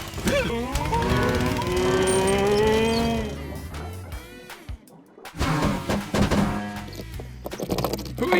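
A toy cow tractor gives a drawn-out moo with a wavering pitch, followed by a brief lull and then a few clunks and softer, choppy sounds.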